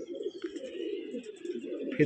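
Andhra breed pigeons coo in a breeding loft, a steady run of low throaty cooing from several birds close by, with a brief louder rustle at the very end.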